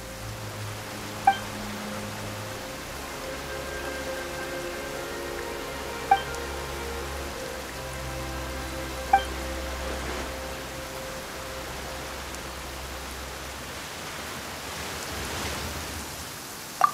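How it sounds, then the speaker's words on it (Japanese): Steady rain pours down in Genshin Impact during an Archon quest, a continuous even hiss with a few sharp ticks over low, sustained background tones. "なんで急に雨が？"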